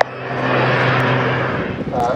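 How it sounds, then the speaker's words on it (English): A BAC Jet Provost Strikemaster jet makes a low crossover fly-past at the Western Air Festival 2017, giving a loud, steady roar that fills the whole clip and eases slightly toward the end. "here it comes, the JP Strike Master jet, and they're going to do a crossover fly past"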